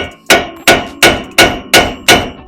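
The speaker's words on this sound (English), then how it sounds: "So we're gonna just give it a little tappy tap. We're trying to just pop it." A hammer strikes the front hub of a 2009 Nissan Titan during a hub replacement. It lands six sharp metallic blows in a steady, even rhythm, loud and close, with each ringing briefly before the next.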